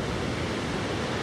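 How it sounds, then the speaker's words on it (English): Ocean surf at Kaikoura rolls in as a steady, dense wash of breaking waves, close and loud with a constant hiss and no pauses or voices. "The amazing ocean that we got to sleep next to last night."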